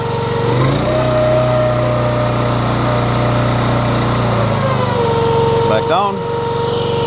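A Honda iGX390 engine on a Wolfe Ridge 17VS log splitter runs steadily at full throttle, a loud continuous drone that holds for several seconds and then drops in pitch as it is throttled back.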